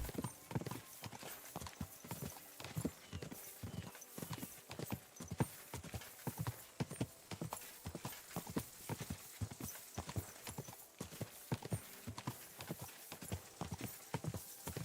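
Rhythmic clip-clop of horse hooves at a steady walk, continuous and fairly close, in Kingdom Come: Deliverance II with faint ambient sound.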